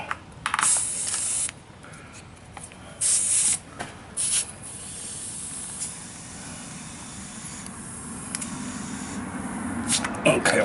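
Air compressor hissing in several short bursts as it inflates the winter tire of a Yamaha XT250 motorcycle, close and loud, with quieter stretches and a steady low background between the blasts.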